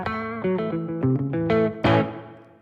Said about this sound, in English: There's just a little bit of spring reverb.